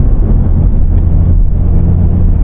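Low, steady rumble of a BMW M3 Competition engine in its softer standard mode rolling along a street, a continuous near cabin drone with mild throttle variation and no voices.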